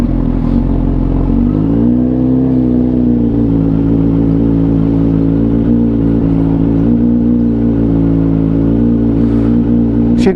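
Inline-4 motorcycle engine, a CX-4RR, idling and then rising into a smooth sustained rev on a road test, loud and close with a steady mid-pitched drone and no talk.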